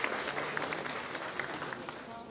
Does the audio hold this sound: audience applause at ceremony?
yes